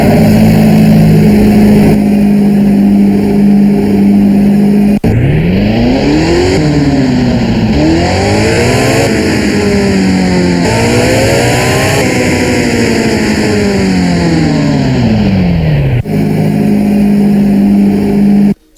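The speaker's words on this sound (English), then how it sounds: "let's listen to the startup." Porsche 918 Spyder engine in the Roblox game Driving Empire, loud and close: a steady idle drone, then repeated rising and falling synthetic revs for about ten seconds before it settles back to idle.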